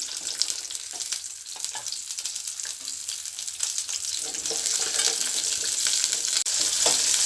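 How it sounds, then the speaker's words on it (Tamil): Small onions sizzle and crackle in hot oil in a pan, a steady close frying hiss with occasional stirring scrapes that grows slightly louder toward the end. "எண்ணெய் ஊற்றிட்டு சின்ன வெங்காயம் சேர்த்துக்கலாம் சின்ன வெங்காயத்தை கொஞ்சம் லைட்டாக வதக்கிக்கிடுவோம்"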